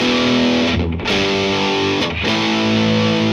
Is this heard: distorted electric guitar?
yes